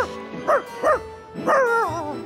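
A dog gives several short barks and yips close by, a few spaced apart, with a whiny rising tone.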